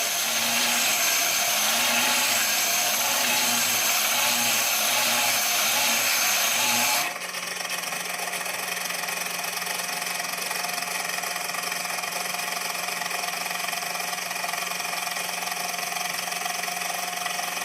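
A Kinkajou wet sander with a sanding disc whirs loudly and steadily with a rhythmic grinding pulse, then shifts to a smoother, quieter hum as it winds on.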